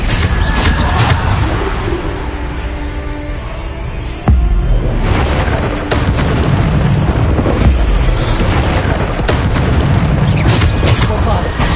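Bombarda spell explosions in the Hogwarts Legacy video game boom repeatedly, loud deep blasts with crackling debris and rumbling tails amid combat noise, a voice shouting over them.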